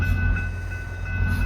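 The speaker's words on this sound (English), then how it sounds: "there goes that train" A VIA passenger train passes through a station, giving a loud, steady low rumble of rolling cars with faint high whine, continuous and without a horn.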